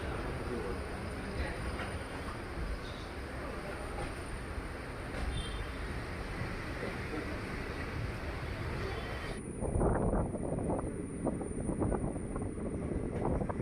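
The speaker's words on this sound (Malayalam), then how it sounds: "ട്രെയിൻ ഇപ്പോൾ ചാലിയാർ പുഴയ്ക്ക് മുകളിലൂടെയുള്ള റെയിൽവേ പാലത്തിലൂടെയാണ് ഇപ്പോൾ പോയിക്കൊണ്ട് നിൽക്കുന്നത്." A train rolls across a railway bridge over the Chaliyar river, with continuous loud wheel rumble and wind noise and a persistent high squeal. The rumble turns louder and more rattling near the end.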